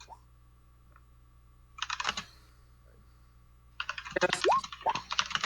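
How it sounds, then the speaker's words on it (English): Rapid, hard typing on a computer keyboard comes in two dense bursts of clicking, one short and one longer, close to the microphone, with a voice briefly overlapping the second burst. "If your typing is furious"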